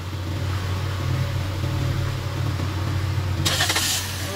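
A third-generation Toyota Vios with a low-power problem runs at a steady mid-pitched idle. Near the end a sharp burst of starter cranking cuts in, and no one speaks.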